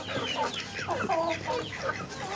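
Chickens fed spinach outdoors clucking close by in quick, busy overlapping calls, a steady chatter of several birds with no talking.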